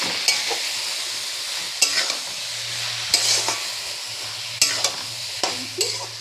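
Mutton with tomatoes and salt being stir-fried in a pan, a steady close sizzle broken by repeated clattering scrapes of a spoon at an uneven rhythm.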